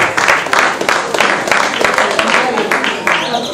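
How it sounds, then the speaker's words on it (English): A round of applause for a guest speaker at a women's cancer walk event, brisk clapping from a gathered crowd, fairly loud and close, with a voice coming in over it. "Please, a round of applause for Mrs. Lynn Wayne."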